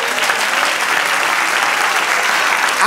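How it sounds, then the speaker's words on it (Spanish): A church congregation applauds the Lord during a sermon. The clapping is loud, dense and continuous throughout, with no speech over it. "Dale un aplauso al Señor."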